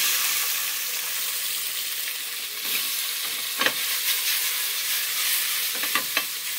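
Curd (paneer) frying in a pan as it is shaken around: a steady, loud broadband sizzle with occasional sharper pops and shuffles as the pieces slide, close up and without talk.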